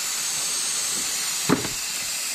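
Steam hisses steadily from a Nesco electric smart canner during water bath canning of ground cherry sweet sauce. A constant close whoosh is broken only by one brief soft thump.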